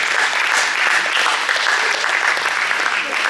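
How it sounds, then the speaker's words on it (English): A crowd applauds loudly and continuously at a high school post-prom event, dense clapping filling the whole stretch with a faint murmur of voices mixed in. "Give them all a big round of applause"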